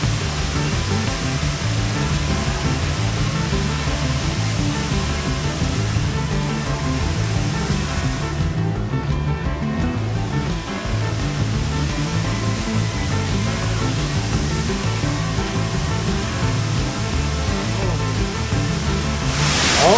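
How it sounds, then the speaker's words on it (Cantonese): A large waterfall pours continuously at Ping Nam Stream, a rocky hiking gorge in Hong Kong. The rush is loud, broad and unbroken, like heavy surf, and fills the whole stretch without letting up. "上到嚟有一個幾有型嘅瀑布添啊"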